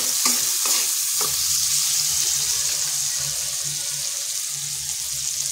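Tomato frying in a pan with salt and turmeric for a vegetarian papaya dish, a steady broad sizzle with a few scraping stirs near the start, close and continuous with no talk.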